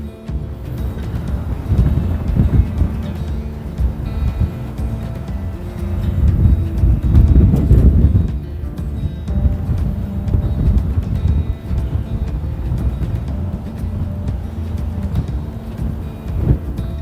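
Steady wind buffeting the microphone on an open hillside in the Ingram Valley, a loud continuous low rumble that swells and gusts, with no other sounds.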